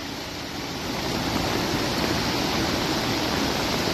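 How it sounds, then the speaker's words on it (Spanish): A swollen Misantla river in Veracruz, Mexico, heard from high on a bridge above, makes a steady, dense roaring rush of fast water, loud and unbroken throughout with no voices. "Y así se ve el río Misantla desde la parte alta del puente."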